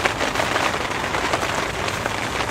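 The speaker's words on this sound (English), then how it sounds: "it's raining." Steady rain falling at a lake during January carp fishing, a close, continuous dense patter on surfaces with no pauses.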